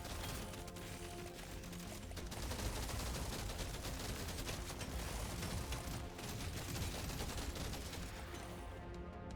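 Sustained rapid gunfire from the video game Deep Rock Galactic Survivors, with dense overlapping shots and impacts that fill the whole stretch at a steady, moderate level, without talk.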